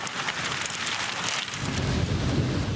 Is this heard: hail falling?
yes